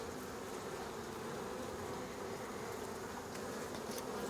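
Honey bees buzzing around an open hive, a dense continuous drone of many insects close by with no voices.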